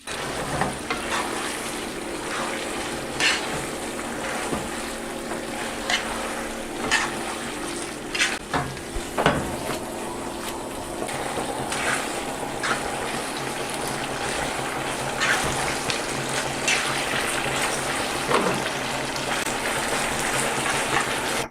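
Lemon paste with fresh herbs is stirred steadily in a hot pan, producing a continuous wet churning and bubbling texture with occasional spoon taps, close and fairly loud throughout.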